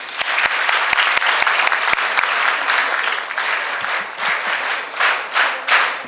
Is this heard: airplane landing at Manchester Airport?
no